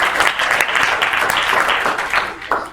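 Audience applause in a lecture hall after a talk on brain-computer interfaces, a steady dense patter of many hands clapping at moderate volume for about three seconds, tapering slightly at the end.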